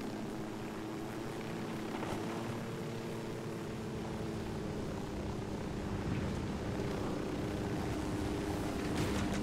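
Helicopter in the video game Ghost Recon Wildlands, a continuous rotor and engine drone with a low rhythmic thrum, steady and loud throughout with no break.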